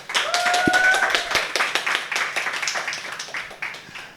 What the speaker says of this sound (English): Round of applause, why not?